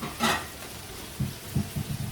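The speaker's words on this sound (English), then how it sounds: "So there is the steak in the pan, sizzling away." A New York strip steak sizzles in a hot pan, heard as a brief bright hiss followed by a string of soft irregular pops and crackles, close by and moderately loud.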